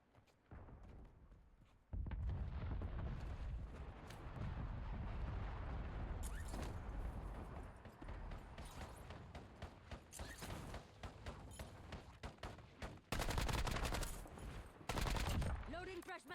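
Rapid, dense bursts of automatic gunfire fill a video game shooter battle, loud and sustained with sharper volleys near the end, while someone talks over the shooting.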